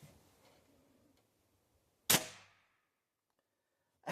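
A Kral Puncher Knight air rifle, low on air pressure, fires one sharp, loud crack with a short decaying tail, preceded by faint room noise and quiet handling.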